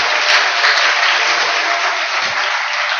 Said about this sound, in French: Applaudissons pour le Seigneur